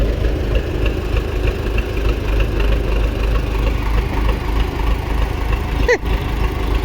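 A tractor engine idles steadily near a small farm storage site, a constant low rumble that runs throughout and dips briefly near the end.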